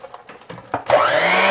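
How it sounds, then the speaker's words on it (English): An electric mixer whirs into a cheesecake ice cream mixture, starting with a few short bursts and clattering knocks, then ramping up to a loud, steady, close whine. "At this point, I'm done with the mixer."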